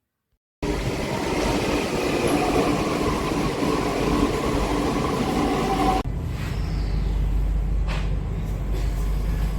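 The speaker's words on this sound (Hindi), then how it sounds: "यह येलो लाइन की मेट्रो आपको समयपुर बादली की ओर ले जाती है।" A Delhi Metro Yellow Line train rumbles along steadily, a continuous loud rolling roar with clattering, shifting in tone partway through as the ride continues.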